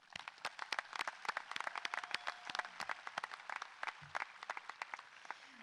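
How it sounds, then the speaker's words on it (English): An audience at a 2020 high school graduation applauds, with sharp, irregular claps ringing out across a quiet hall, moderately distant and fairly sparse, rising and falling over several seconds. "I think they deserve a round of applause for that."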